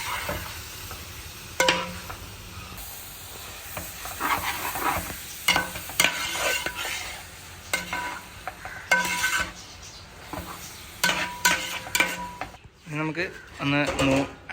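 Chicken curry stirred in a pan for a parotta meal, with repeated scraping stirs and clinks of a utensil against the pan over a soft sizzle, while a person talks throughout.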